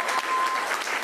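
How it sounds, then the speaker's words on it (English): A brief burst of audience applause greets the winner at an EPT Dublin poker tournament final table, the clapping dense and steady for about a second. "I think he deserves a huge round of applause"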